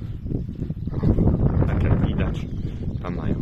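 Wind buffets the microphone outdoors on a cattle farm, making a continuous low rumble with gusty surges, and a muffled voice is heard faintly beneath it.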